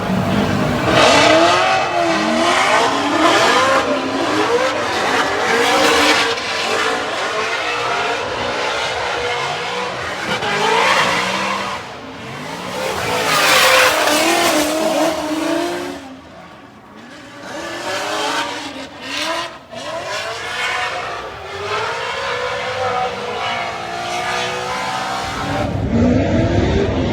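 A Formula Drift race car drifts during practice at Orlando, its engine revving hard and rising and falling while the tires squeal loudly through long slides.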